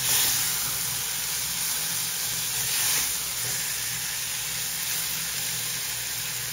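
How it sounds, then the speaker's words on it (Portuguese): Chicken fries in a pan over high heat, giving a continuous loud sizzle and hiss of hot oil that holds steady throughout without voices. "eu vou só terminar de fritar esse frango aqui"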